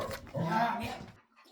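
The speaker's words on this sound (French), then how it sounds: "Arrête d'aboyer." A dog gives a short, throaty bark-like vocalization, close up, followed by a brief quieter whine.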